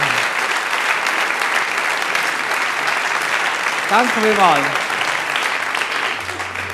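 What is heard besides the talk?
audience applause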